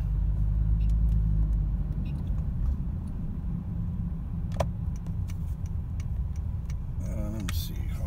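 A 2015 Honda Fit EX-L accelerating gently on the road, heard from inside as a steady low engine and road rumble throughout, with a few faint ticks and a brief higher whine near the end.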